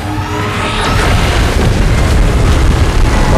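Godzilla's beam blast in PUBG's Last Stand mode builds into a loud, sustained booming roar, with a rising whine early on, then a thick rumbling explosion carrying to the end, with no talk.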